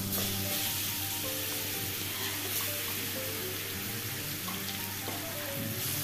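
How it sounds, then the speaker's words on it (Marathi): Guava pieces crackle in hot oil tempering, giving a dense, close sizzle that holds at a steady level throughout with no pauses. "आता या सगळ्या पेरूच्या फोडी आपण या फोडणीमध्ये घालून"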